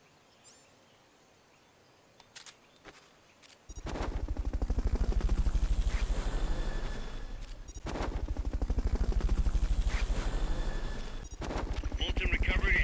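The Fulton recovery helicopter in Metal Gear Solid Peace Walker arrives after a few faint clicks, then a loud, pulsing rotor roar swells and dips in long waves, with a brief lull midway.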